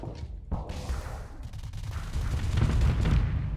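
Missile launches and weapon fire from a Pegasus ship firing Hydra missiles in space combat, heard as a series of sharp booms and crackling blasts building into a dense, rumbling barrage.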